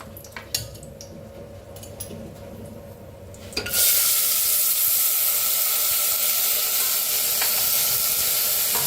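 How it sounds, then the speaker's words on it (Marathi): Quiet clinks of a hot pressure cooker give way partway through to a sudden loud, steady sizzle as turmeric and washed moth beans hit the heated metal, continuing evenly to the end. "हळद भाजून घेऊया थोडीशी आता ह्याच्यात टाकूया ती मटकी स्वच्छ धुवून घेतलेली"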